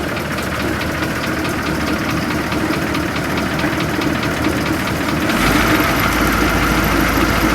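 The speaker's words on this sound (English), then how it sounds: "Rev it up just a little bit, bring the idle up a little higher" Transit liner bus engine idling, then brought to a raised idle, as a steady close diesel rumble with a slight knock that rises in pitch and loudness near the end.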